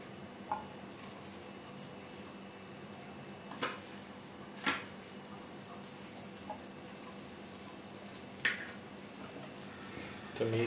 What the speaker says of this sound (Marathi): पहिले मी पाव भाजून घेतो